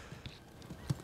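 A horse's hooves clip-clop in a short, uneven run of several close, distinct knocks, the last one the loudest.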